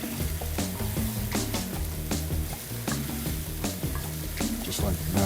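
Cauliflower rice stirred in a hot pan, a steady close sizzle broken by repeated scraping clicks from the utensil, with a voice faintly heard at times.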